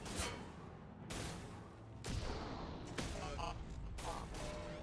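Bursts of gunfire from the Mass Effect 2 video game, several loud volleys at roughly one-second intervals with sharp attacks and booming tails over continuous combat noise.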